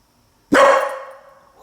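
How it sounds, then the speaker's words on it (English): A pet dog at a home in Eden Prairie, Minnesota, gives a single loud, close bark after a moment of silence, its tail fading quickly. "Why are you barking?"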